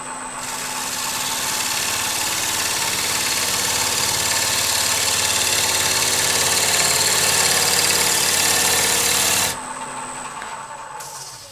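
A wood lathe runs steadily while a scraper makes a bevel-rubbing cut on a spinning wood blank, giving a continuous loud rasping hum for about nine seconds before the cut stops and the motor drones on alone.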